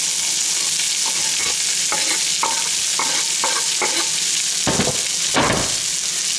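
Kale frying in rendered bacon fat in a pan, a loud steady sizzle close by, broken by a run of rhythmic stirring scrapes and then a couple of bigger tossing sweeps, no talking.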